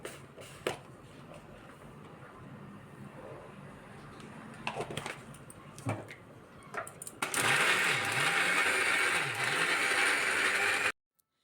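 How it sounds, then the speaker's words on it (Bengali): Yardlong beans with salt and turmeric ground into a paste: scattered clicks and knocks at first, then a loud, steady grinding whir that runs for several seconds and cuts off abruptly. "তারপর একসঙ্গে বেটে নিলাম।"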